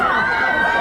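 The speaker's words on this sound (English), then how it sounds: "This crowd is alive." Crowd at a high school varsity football game, Croton-Harmon at Rye Neck, roars in a loud, sustained cheer with overlapping shouts and a commentator's voice heard over it.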